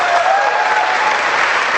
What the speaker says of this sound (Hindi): हम आपका जोरदार तालियों से स्वागत करना चाहते हैं।